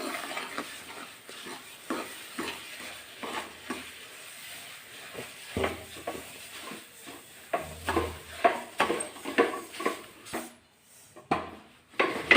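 Roasted sesame seeds being stirred into a hot chikki (sesame brittle) mixture in a pan, giving repeated soft scraping and stirring strokes at an unhurried pace, close and fairly quiet, with no talking.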